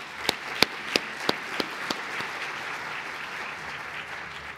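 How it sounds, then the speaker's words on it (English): A plenary audience at a professional development day gives a short round of applause for breakout session facilitators, with a few sharp individual claps standing out early before the sound thins into a soft, fading patter. "Give them a round of applause for me."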